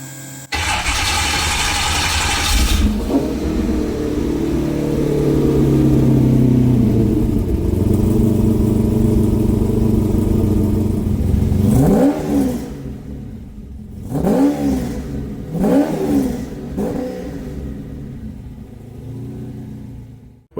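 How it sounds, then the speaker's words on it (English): An off-road prerunner race truck fitted with boom tubes cranks and fires up, then settles into a loud, lumpy rumble. It follows with several sharp, distinct revs that die away between blips, close up and with no talking. "Let's fire the truck up."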